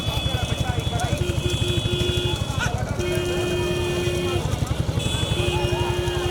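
Racing bulls pull a cart in a big bull cart race, their hooves pounding in a fast, steady galloping rhythm close by, with shouting voices and a high whistle-like tone over the constant rumble.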